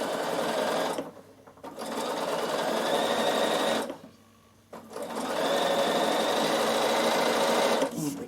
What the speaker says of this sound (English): Hold on to your threads till you get a little bit of fabric, and then just top stitch down the side.